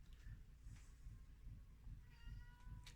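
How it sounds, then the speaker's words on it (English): A house cat meowing softly, two or three faint short calls over a steady low rumble of background noise. "And now my cat's meowing."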